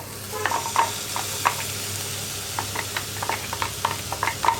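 Ground tomato and onion paste sizzling as it goes into a hot pan, with steady frying hiss and scattered stirring clatter throughout, close and fairly loud, no voices.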